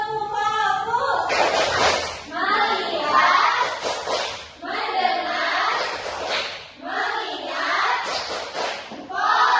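A classroom of children claps along to the 'tepuk fokus' focus chant, with rhythmic group claps and taps mixed under loud, sing-song chanting voices.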